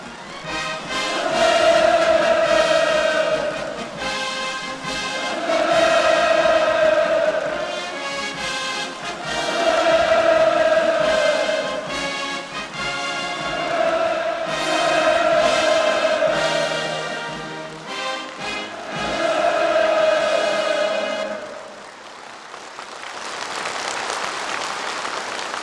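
A large crowd at a formal state ceremony breaks into rhythmic applause and cheering in repeated waves, with loud swells of chanted shouts rising and falling over about twenty seconds before settling into plain clapping.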